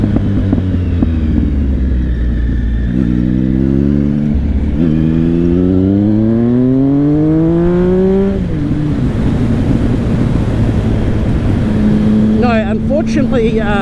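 A nine-year-old motorcycle with only 1000 miles on it and a fuel pump fault rides along the road, its engine note rising and falling through repeated revs and gear changes, loud and close, with brief voice at the end.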